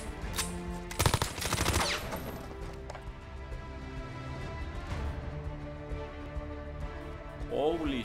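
Rapid bursts of automatic gunfire and sharp single shots from the Call of Duty: Modern Warfare 2019 video game, loudest around the one-to-two-second mark, with a player shouting over the game audio.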